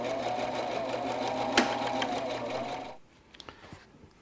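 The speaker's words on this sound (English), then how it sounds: "we'll just sew right down that line and we'll go through the fabric" A sewing machine runs steadily, stitching straight down a seam through fabric, with a sharp click midway before the motor stops and a few quieter handling clicks follow.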